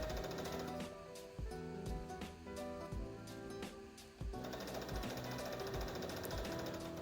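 A sewing machine runs a straight stitch along dress pieces, a steady close mechanical rattle with rapid regular needle ticks, briefly pausing midway before resuming at the same pace.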